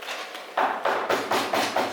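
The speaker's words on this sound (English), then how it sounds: "Hark, more knocking." Knocking on a door during a stage performance of Macbeth, a quick series of five or six firm, evenly spaced raps, close and clear, with no talking.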